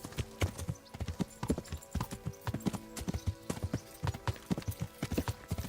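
Horse hooves clip-clop steadily at a riding pace in the medieval game Kingdom Come: Deliverance, close and clear, with a brief snort among the rhythmic beats and no talk over them.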